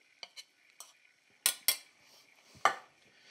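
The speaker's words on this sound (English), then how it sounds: "I'm using a slotted spoon to do it." A slotted spoon clinks against a pan while cooked apples are lifted out for a caramel dish, giving a few sharp metallic taps spaced irregularly, then two louder scrapes and a final clear knock, close and with no talking.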